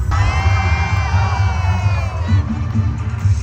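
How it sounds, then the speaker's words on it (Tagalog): A crowd at a concert in 2025 shouts and screams loudly and steadily, a dense wall of cheering that fills the whole moment. "Sobrang hiyawan talaga, mga mami, mga tita, mga bex, mga lola."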